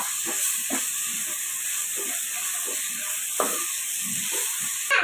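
Ginger garlic paste fries in a pan for an Andhra-style fish curry, giving a steady, even sizzling hiss throughout with a few soft stirring knocks.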